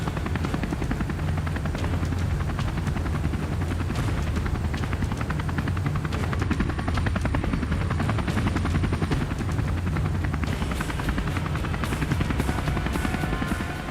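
A rescue helicopter flies overhead through bumpy air in the backcountry, its loud, continuous rotor thump and turbine roar holding steady and close for the whole stretch with no speech.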